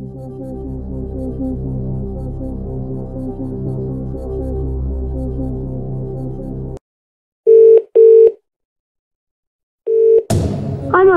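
Phone-a-friend lifeline in the Who Wants To Be A Millionaire video game, with a sustained tonal music bed, then two short electronic ring bursts with a pause, another ring, and a final swell.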